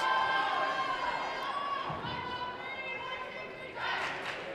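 Crowd in a gym before a high school volleyball playoff game, a continuous roar of voices and cheering that swells again near the end, with a commentator talking over it.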